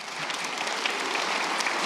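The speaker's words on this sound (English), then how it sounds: "Hold your applause for a moment" An audience at a live hip-hop show applauds. The clapping is dense and steady, at moderate loudness, for about two seconds, with no voice over it.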